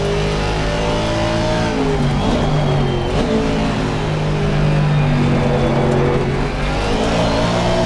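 A GT3 race car engine in a racing game at the Ricard circuit revs hard and continuously, loud and near, its pitch climbing and dropping through gear changes with no pause.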